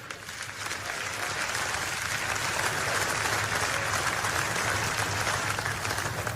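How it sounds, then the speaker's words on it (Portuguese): A church congregation claps in praise of the Lord, dense and steady applause held at full strength throughout, loud and close with no break. "Vamos lá, glorifica o Senhor com palmas aí."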